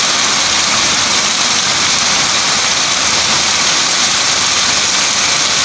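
Heavy rain pours down in a dense, steady roar, loud and close throughout, with no voices over it.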